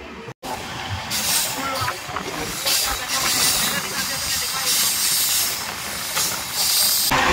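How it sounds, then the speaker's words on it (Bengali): The oncoming 15929 Tambaram–Tinsukia Express passes close by, a loud sustained rush of wheels and hissing air that fills the whole stretch, heard from aboard another train. "সামনে থেকে আসছে 15929 তাম্বারাম তিনসুকিয়া এক্সপ্রেস"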